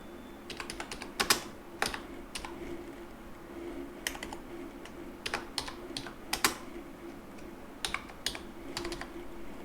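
Keys tapped on a computer keyboard while a full name is typed, quick clustered bursts of clicks with short pauses, close and fairly quiet over a faint steady hum.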